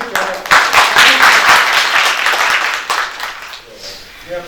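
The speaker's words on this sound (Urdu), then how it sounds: "لیے بھرپور تالیاں اور سول ڈیفینس کی قیادت" Audience applause at an award ceremony at Junagadh palace in Pakistan, a dense wash of many hands clapping that holds steady for several seconds before thinning toward the end.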